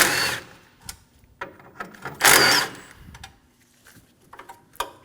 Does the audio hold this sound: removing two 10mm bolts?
yes